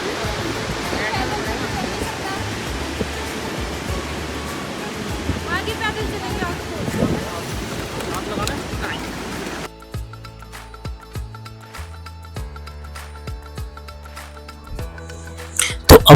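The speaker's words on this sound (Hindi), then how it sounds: "उत्तराखंड के माना गांव में सरस्वती नदी का एक तेज प्रवाह आज भी देखा जा सकता है" The fast-flowing Saraswati river at Mana village in Uttarakhand rushes as a steady broadband roar for about ten seconds, then gives way to sparse, quieter sounds with scattered clicks.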